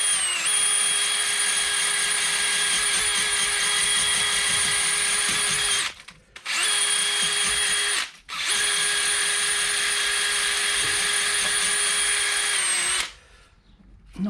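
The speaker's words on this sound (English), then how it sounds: "So I've got wire brush on my drill." A wire brush on a power drill scrubs a 2009 Mercedes C200 wheel hub, a loud steady high whirring in three long bursts with brief pauses between them.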